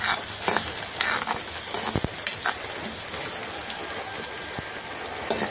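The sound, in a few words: onion and garlic being stirred and fried in a pan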